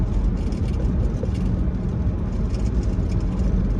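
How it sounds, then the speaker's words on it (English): A big truck rolls by on the left along Terminal Ave in Richmond, Virginia, its low engine rumble and road roar loud and steady throughout, heard from inside a moving car. "Got a big truck on my left-hand side."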